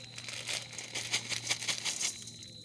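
Vermicelli from two packets is poured into hot oil, heard as close, crinkly rustling of the packet and dry strands tumbling in a series of quick, light bursts, without talk.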